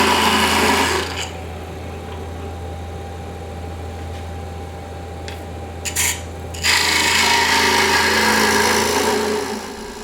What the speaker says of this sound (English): I'm going to cut the bottom away from the top